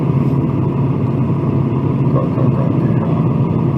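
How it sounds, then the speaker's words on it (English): A Kia car drives along a road, its steady engine rumble and tyre noise filling the cabin at an even, constant level with no talking. "how come I'm driving a Kia?"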